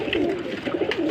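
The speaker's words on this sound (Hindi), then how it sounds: "यासर भाई एक कबूतर चिट लगा है जी, गोल्डन कबूतर है।" A golden pigeon coos softly and repeatedly up close, a low, throaty rolling call.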